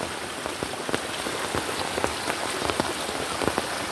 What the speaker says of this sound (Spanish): gracias a Dios, pues está lloviendo